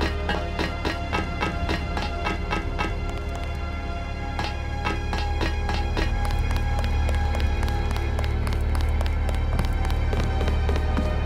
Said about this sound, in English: Nervous when I heard footsteps, but it's one of the friendly mechanics